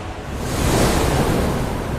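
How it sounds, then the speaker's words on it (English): Big ocean waves crash and surge around the Troll A offshore gas platform, a loud roaring wash that swells to a peak midway and then eases, mixed with wind buffeting the microphone. "Not even the biggest waves can threaten Troll now."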